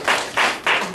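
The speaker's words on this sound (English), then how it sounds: "I'd like you for a hand clap." A church congregation claps three times in quick succession, brief sharp bursts of hand claps close together with no talking.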